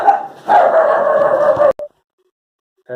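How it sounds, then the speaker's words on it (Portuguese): A dog barks and yips in a continuous burst up close, then falls silent before a brief final yelp. "os cachorros começaram a latir"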